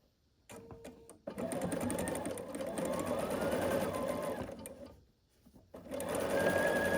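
A sewing machine stitches quilt pieces together in steady whirring runs, starting after a few short clicks, pausing briefly near the middle, then resuming, close and fairly loud.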